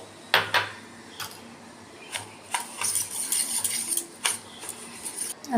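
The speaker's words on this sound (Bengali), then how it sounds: "প্রথমে বাটির মধ্যে আমি সুজিটাকে দিয়ে দেবো আর এখন এই টক দইটা দিয়ে আমি মেখে নেব" Semolina being stirred together with sour yogurt in a bowl, giving scattered clinks and scrapes of a utensil against the bowl in close, irregular bursts with no talk.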